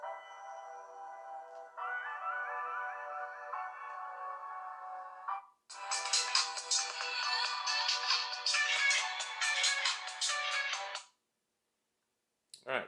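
Ringtone from a NUU Mobile R1 rugged waterproof phone at maximum volume through its small speaker, a loud electronic melody in two sustained phrases, the second brighter and denser, then cutting off into silence.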